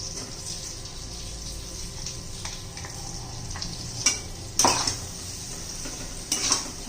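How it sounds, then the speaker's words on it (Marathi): Ground masala paste sautéing in a pan for a spicy eggplant dish, a steady soft sizzle under occasional scraping and clattering of a spoon against the pan, with a few sharper knocks near the end. "छान हे वाटण पण असं परतून घेऊया मसाल्यात"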